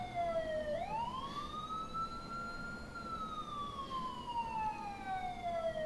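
Police siren in the Thief Simulator video game, a single wailing tone that sweeps up, holds, then slowly falls, steady and moderately distant with no talk over it.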